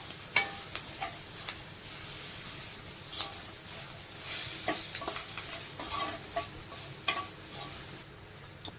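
Snacks of flattened rice and puffed rice being stirred and fried in oil with ghee added, giving a soft continuous sizzle under repeated scraping stirs of a spoon against the pan, close and fairly quiet, with no talk.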